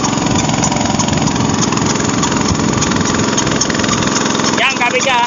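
A boat engine drones loud and steady right alongside, a constant mechanical rumble that fills the whole stretch, and a voice speaks briefly at the end.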